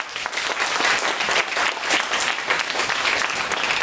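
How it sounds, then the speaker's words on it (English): Audience at a CHAZAQ Torah lecture by Rabbi Yitzchok Fingerer breaks into a big round of applause, loud dense clapping from many hands, close and sustained for the whole stretch with faint crowd murmur beneath. "A big round of applause for CHAZAQ."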